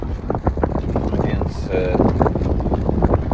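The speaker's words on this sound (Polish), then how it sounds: "Stoimy na kotwicy, a tu nagle ponad 20 węzłów." Strong wind of over 20 knots roars around a sailboat lying at anchor near a small island, with constant gusting and rustling and the hull knocking in the chop while someone speaks briefly over it.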